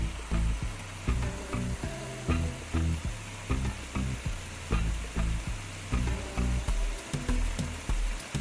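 Seasoning is stirred into bok choy frying with saltfish, Jamaican style. A constant sizzle carries rhythmic, evenly spaced scraping and knocking strokes of a spoon against the pan, close up and continuous.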